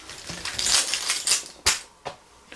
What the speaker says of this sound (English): Taking the keys out. I'm holding on to the keys.